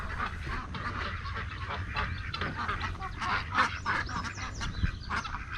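Geese honk and squawk in a steady chorus over a low rumbling engine, with several louder calls standing out near the end.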